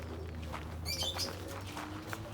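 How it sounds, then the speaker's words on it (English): Doves, pigeons and lovebirds call from their pens in a steady, moderately close chorus: a bright cluster of chirps stands out briefly over a low continuous hum, with no talking. "These are the doves, pigeons, and lovebirds."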